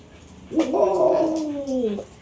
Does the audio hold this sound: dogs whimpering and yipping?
yes